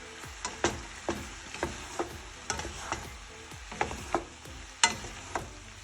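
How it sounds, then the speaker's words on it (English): Brussels sprouts with bacon and apples sizzle in a pan while being stirred and tossed, sharp scraping clacks of a utensil recurring about twice a second over a constant frying hiss. "I'm gonna add some more Brussels sprouts. Okay, so just toss it around."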